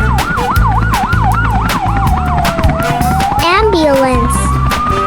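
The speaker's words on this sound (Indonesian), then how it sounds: "Ambulance." An ambulance siren sounds loud and close, starting with a fast warbling yelp and then shifting into a slower rising wail, with a steady low rumble underneath.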